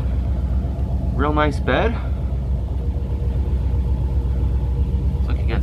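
A Chevrolet 3100 Big Window pickup truck's engine runs at a steady, low rumbling idle close by, with someone speaking briefly over it.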